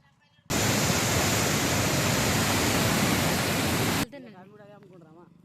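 A loud, steady roar of water rushing through Jurala dam fills the scene for several seconds, then cuts off abruptly before a person speaks.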